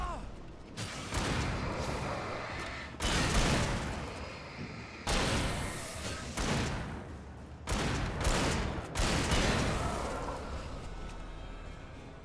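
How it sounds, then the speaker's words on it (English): Gunfire in the video game Alan Wake comes in repeated bursts of sharp shots and rumbling blasts, several separate volleys over a dozen seconds, loud and close. "I could be shooting these guys"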